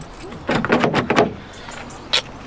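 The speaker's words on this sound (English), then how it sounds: "It feels like we are back with Fergus, locking the door manually." A van door is locked by hand, giving a cluster of quick mechanical clunks and rattles followed a moment later by a single sharper click, fairly close.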